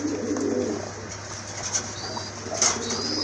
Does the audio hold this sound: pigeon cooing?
yes